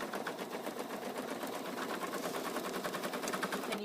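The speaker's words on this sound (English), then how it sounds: "now I'm going to stitch the next step, which is the tack down for that fabric" A machine embroidery unit stitches a fabric tack-down on a stuffed bunny project, a steady dense rapid needle chatter running continuously at close range with no pauses and no talking.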